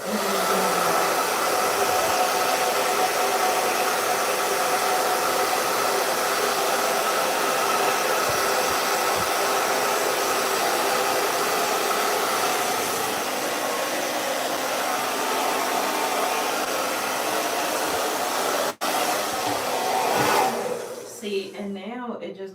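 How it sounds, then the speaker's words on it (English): A loud blow dryer drying hair roars steadily and close for the whole stretch, its airflow shifting slightly near the end before cutting off. "then I take my blow dryer"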